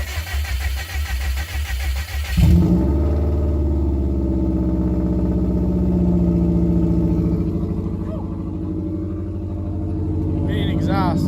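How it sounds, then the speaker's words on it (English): A Subaru WRX engine cranks briefly and then fires up. It settles into a steady, loud, close idle that runs on to the end, with a voice briefly heard near the start. "Now he's gonna fire it up."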